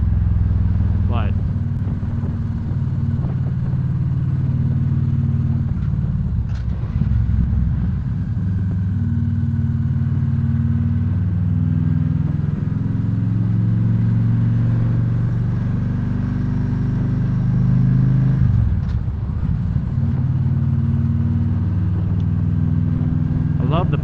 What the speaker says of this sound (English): the pops it makes out of the exhaust